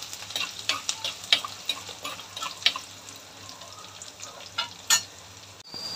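Sprigs of curry leaves crackle and spit in hot oil, a close, irregular series of sharp pops and sizzling bursts over a low hiss, with a few louder spatters and no speech.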